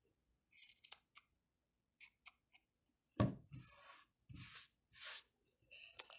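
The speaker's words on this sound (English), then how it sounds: "take and cut the end of that open end and then trim" Scissors trim the open end of a yarn crochet tassel, giving a handful of soft close snips and short rustling bursts separated by near silence.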